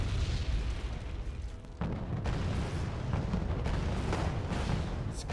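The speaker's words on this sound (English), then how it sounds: "It's constant artillery bombardment from these Paladins and AMX all for F1" Continuous artillery bombardment from Paladin and AMX guns in Wargame AirLand Battle, a dense low rumble of overlapping booms and blasts with sharper bursts near the two-second mark, with no talk.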